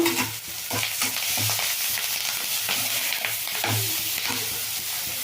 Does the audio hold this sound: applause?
no